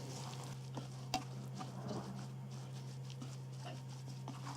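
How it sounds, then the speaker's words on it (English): Lentils being stirred in oil in a pan, soft scraping and light sizzling with a few sharper clicks of the spoon, quiet and steady over a constant low hum. "Give it a stir."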